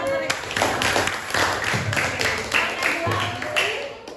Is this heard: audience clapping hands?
yes